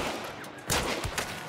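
Pistol fire in a multiplayer video game: a few sharp, rapid shots crack out in quick succession over quiet background game sound.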